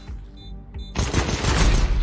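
A burst of gunfire in Counter-Strike erupts after a quieter moment, dense and loud rapid shots continuing to the end.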